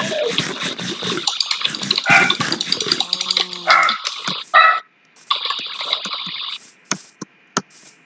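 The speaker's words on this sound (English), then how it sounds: "there go your dog barking" A dog barks repeatedly in short, loud bursts close by, mixed with running water and household clatter, with brief quiet gaps between barks.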